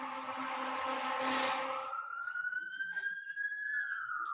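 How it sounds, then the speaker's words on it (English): Emergency siren from outside, a police or ambulance wail rising and falling, starts loud and mixed with city noise, then settles into a single steady tone that drifts upward and fades, with no talking heard. "Don't mind the sirens and the horns."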